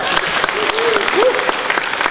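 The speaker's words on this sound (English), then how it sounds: "Give yourself a big clap." A church crowd claps and cheers after a worship song, with dense steady applause filling the room and voices calling out over it.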